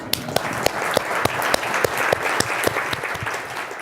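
Applause for a parks panel, moderate crowd clapping with one nearby person's loud, evenly spaced claps standing out rhythmically above the softer background patter.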